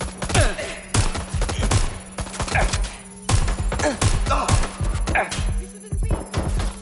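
Gunfire in Watch Dogs Legion: repeated sharp single shots and short bursts in an irregular rhythm, loud and close, with a steady low hum underneath and no talking.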